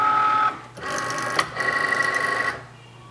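A crafting cutting machine draws its mat in for the first cut of an iron-on project, giving a short mechanical whir, a brief pause, then a longer steady motorized hum with a small click, close and alone.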